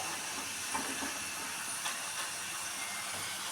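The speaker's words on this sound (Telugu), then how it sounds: "ఇలా 1 టైం ఆయిల్లో ఫ్రై చేసుకొని తీసేసుకోవాలి" French fries sizzle steadily in hot oil, a loud, even hiss with faint crackles and no talking.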